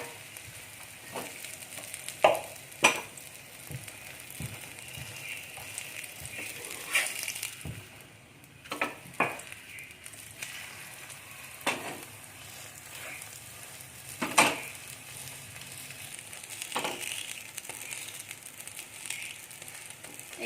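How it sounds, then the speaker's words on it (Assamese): An aloo paratha fries in refined oil in a pan, giving a steady low sizzle with crackles and sharp clicks and scrapes of a spatula turning and pressing the flatbread at intervals, close and moderately loud. "এনেকৈ মই বাকী গোটেইকেইটা ফ্ৰাই কৰি ল'ম"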